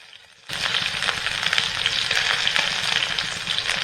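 Chopped onions dropped into hot oil in a pan, bursting into a loud, dense sizzle after a brief quiet start and frying steadily and close throughout.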